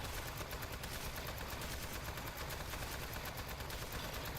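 Turrets in the video game Aperture Desk Job fire without pause, a dense, steady stream of rapid shots filling the whole stretch at an even, moderate loudness.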